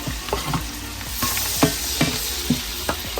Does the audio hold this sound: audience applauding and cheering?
no